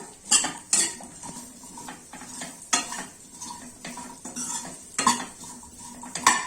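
Drumstick pods are stirred into a cooking pan with a metal spoon, sharp clinks and scrapes against the pan coming in irregular bursts over a faint sizzle, close up and without talking.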